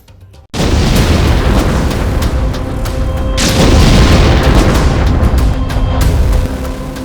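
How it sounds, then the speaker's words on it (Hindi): A loud, sustained explosive roar from an Israeli military strike in Hezbollah territory erupts after a brief quiet start, rumbling continuously with heavy low-end blasts for several seconds before easing slightly. "इलाका हिजबुल्लाह का और धमाका इजराइल का"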